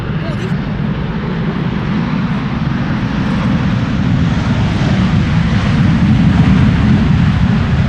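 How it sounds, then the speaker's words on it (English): A Ryanair jet arriving from Dublin at Amsterdam Schiphol Airport in wintry, windy weather makes a loud, steady low engine roar throughout, with a broad rushing hiss over it. "This is Ryanair arriving from Dublin"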